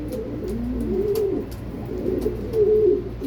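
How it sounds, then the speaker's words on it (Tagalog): Young racing pigeon, about two months old, giving soft low coos in a few close, repeated phrases against faint background noise. "Batang-batang ibon na yan."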